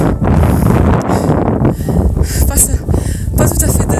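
Strong, gusty wind buffets the microphone on a mountain summit, a continuous loud roar that swells and eases in bursts, with people talking now and then underneath.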